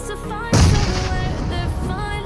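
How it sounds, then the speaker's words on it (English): A grenade explodes in the mobile battle royale game PUBG Mobile, a sudden loud boom about half a second in that rumbles and decays over the following two seconds. "You need to throw the grenade."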